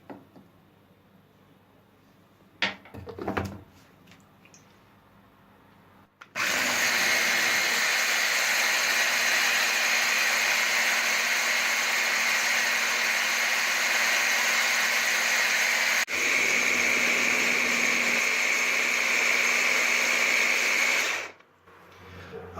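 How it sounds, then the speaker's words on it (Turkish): A blender whirs loudly for about fifteen seconds, mixing homemade chocolate spread with vanillin, with a brief hitch partway through. Quiet kitchen clatter comes before it starts, and the sound ends abruptly. "Arkadaşlar blenderdan geçirme işlemimiz bitti."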